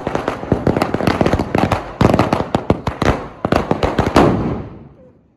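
Diwali firecrackers go off in a dense, crackling barrage of loud, close pops lasting several seconds before fading out at the end.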